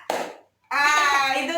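A classroom of students clapping hands on cue in a pattern: one short burst of claps, a brief silence, then a second burst as a voice and children's voices rise over it.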